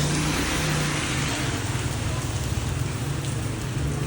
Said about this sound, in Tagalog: Pangilang ulan to.